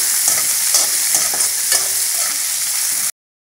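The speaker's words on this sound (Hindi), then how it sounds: "अब डालेंगे बारीक कटा हुआ प्याज, लहसुन और हरी मिर्च और इसको सौते कर लेंगे" Finely chopped onion, garlic and green chili sautéing in a hot pan with cumin and bay leaf, a loud, steady close sizzle with the scrape of stirring running through it until it stops abruptly.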